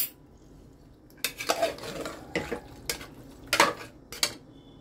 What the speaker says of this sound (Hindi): अब हम इसको भून लेंगे।